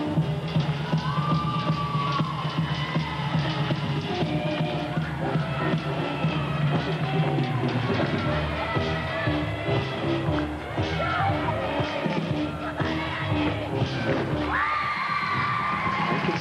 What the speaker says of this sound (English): Teammates applauding before she even finished that tumbling run.